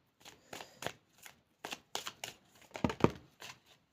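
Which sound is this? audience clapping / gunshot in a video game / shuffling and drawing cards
shuffling and drawing cards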